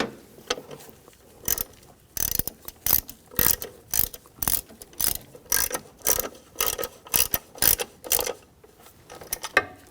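A ratchet tightens bolts on a 2010-2014 Volkswagen GTI 2.0L radiator fan, rapid bursts of sharp clicking repeated in quick strokes with short pauses, close and crisp, no talking.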